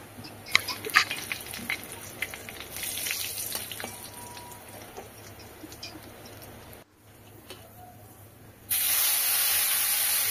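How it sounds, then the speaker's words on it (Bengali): Cumin seeds and bay leaves tempering in hot oil give a steady sizzling hiss with crackles, growing louder and brighter near the end as the spices hit the pan. "এখানে জিরে তেজপাতা ফোড়ন দিচ্ছি।"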